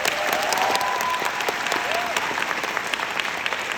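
A theatre audience gives a standing ovation at a curtain call for the musical Jesus Christ Superstar, dense warm clapping throughout, with faint whistles and voices mixed in.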